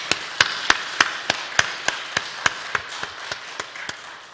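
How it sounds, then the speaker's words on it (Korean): A church congregation claps together in a steady, even beat at a thanksgiving worship service, each crisp clap sharp and evenly spaced, with no talking over it. "감사와 영광의 박수 같이 돌리겠습니다"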